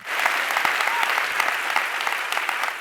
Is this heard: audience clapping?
yes